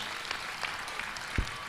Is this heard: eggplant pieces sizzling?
no